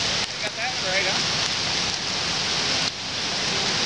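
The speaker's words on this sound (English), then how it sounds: "I woke up and saw it was raining outside" Morning rain falling outdoors near a creek, a dense, even hiss of drops on surfaces that holds steady throughout at a fairly loud level, with a couple of faint tonal chirps early on.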